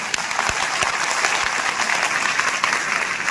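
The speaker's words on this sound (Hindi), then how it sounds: "आपकी तालियां बता रही हैं जैसे आपको बहुत हर्ष नहीं है।" Sustained audience applause at a teachers' event in Uttar Pradesh, a dense even wash of many hands clapping that holds steady throughout with no gaps.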